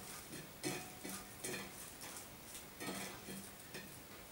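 Paper draw slips for a giveaway are stirred around in a container, giving a close series of rustling, scraping bursts that rise and fall in an uneven rhythm.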